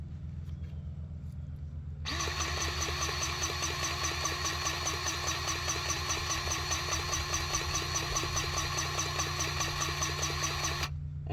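A grease gun driving grease into a fitting on a boat, a steady mechanical buzzing whir that starts abruptly over a low idling drone and runs continuously for about nine seconds before stopping.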